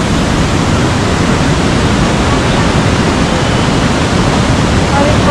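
A mountain stream rushes past Nichnai camp on the Kashmir Great Lakes trek, a loud, steady, close wash of flowing water that never lets up, with no voices over it.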